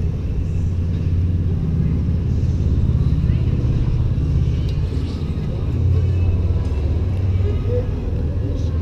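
A vehicle engine exhausting through a muffler at an amusement park in Ocean City, Maryland gives a steady, close, low rumble that swells slightly at moments, with faint background voices.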